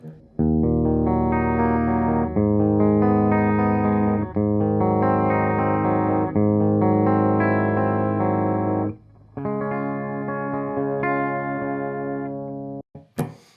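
Clean electric guitar chords strummed through a Fender Deluxe Reverb tube amp, full and sustained with warm overtones, playing continuously with a brief break near the end.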